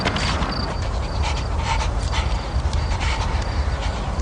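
A dog pants steadily with faint whimpers at close range over a constant background hiss, in a night scene from a Moroccan film set in Casablanca.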